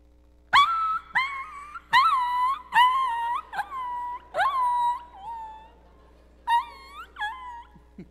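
A human voice imitating a dog yelping with its tail caught in a screen door, a string of high, sliding cries and whimpers in short bursts with pauses between.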